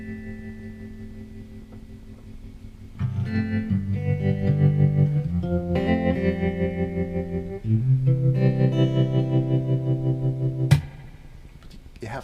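Electric guitar played through a Tech 21 Fly Rig with spring reverb, sustained distorted chords and notes ringing with a lush washy tail, strummed in a few phrases and ending on a sharp accent.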